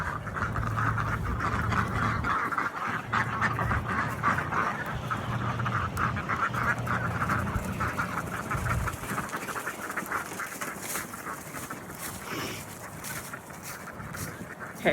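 Ducks quacking on a farm, a busy flock calling continuously and fairly close over about fifteen seconds, with a low steady hum beneath and occasional faint voices.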